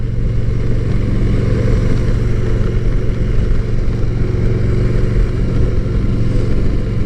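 A Harley-Davidson Softail motorcycle engine roars steadily and loudly close by while accelerating, a continuous low rumble with no speech over it.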